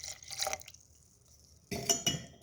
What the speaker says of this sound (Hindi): अब हम क्या करेंगे कि इसमें थोड़ा सा पानी ऐड करेंगे।